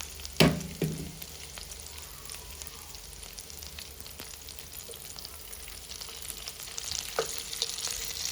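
Vegetarian food sizzles steadily in a pan as pieces are turned to brown each side, a soft continuous frying hiss broken by a sharp clatter near the start and a few light utensil taps.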